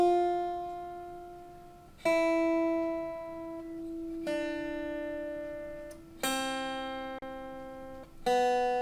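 A guitar plays a slow descending line of sustained whole notes, G F E D C B C, each plucked note ringing clearly for about two seconds before the next attack, alone with no talking.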